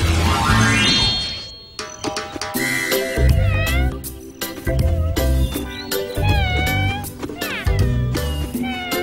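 A cartoon cat meows repeatedly in a children's animated comedy, bright rising and falling cries close and loud, with musical tones and busy background sound around them.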